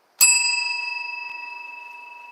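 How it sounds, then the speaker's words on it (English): A single bright ding of a small bell, like a bicycle bell, strikes once and rings out with a long, slowly fading shimmer in otherwise silence. "Every time a bell rings"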